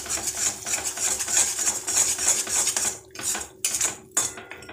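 Stuffed bitter gourd with turmeric and jaggery powder is stirred in a pan, giving close, rhythmic metallic scraping and clinking of utensil against pan in quick repeated strokes, with brief pauses near the end.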